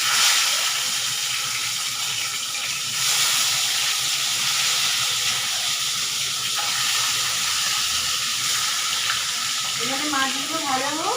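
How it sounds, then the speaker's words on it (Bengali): Tilapia fish fry in hot oil in a pan, giving a continuous, close, loud sizzle and hiss. A brief voice-like sound comes in at the end. "আর এখানেও দেখছো তেল গরম হয়ে গেছে। পটাপট পটাপট মাছগুলোকে ভেজে নিই।"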